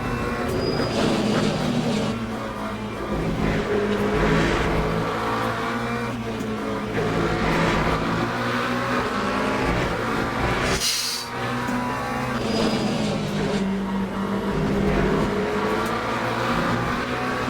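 Race car engine roaring continuously in the Le Mans Ultimate racing game, loud and steady throughout with shifting pitch, no talk over it.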